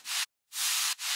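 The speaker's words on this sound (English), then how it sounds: "White noise," White noise bursts from an FL Studio future bounce beat, three hissing sweeps of bright static. The first is short and is followed by a brief gap, then a longer burst and a shorter one come almost back to back.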